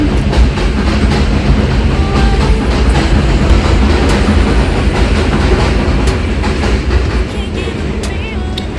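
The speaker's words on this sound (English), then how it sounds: "the train just passed by" A train rumbles past at close range in the Bronx, loud and continuous for the whole stretch, with rail clatter over a steady low roar and no talk.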